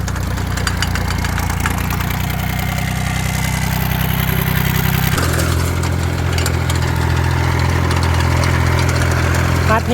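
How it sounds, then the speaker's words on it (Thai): A Yanmar 35 hp turbocharged diesel engine on a stainless-steel rice sprayer vehicle runs close up, a steady loud knocking drone that shifts pitch partway through as the revs change. "คันนี้ใช้เครื่องยนต์ยันมานะครับ 35 แรง ติดเทอร์โบครับ"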